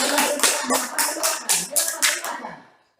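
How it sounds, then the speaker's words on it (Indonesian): A group of schoolchildren at an elementary school in Tubu, Bikomi Nilulat, claps in a steady, fairly quick rhythm during an odd-or-even number game in class, with about nine close, loud claps over two and a half seconds before fading out. "ya, tepuk tangan."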